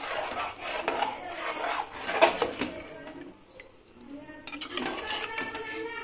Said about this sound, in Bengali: এবার দিয়ে ঘুটে নিচ্ছি।